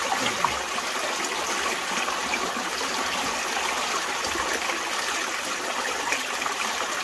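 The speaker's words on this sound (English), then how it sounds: "See the water flow." Steady broadband water rush flowing through an abandoned UK mine, continuous and even throughout with no voices.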